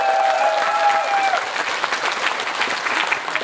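Audience applause at a political committee launch ceremony, a dense, steady clatter of many hands clapping that fills the room without letup, with a faint tonal whistle in the first second.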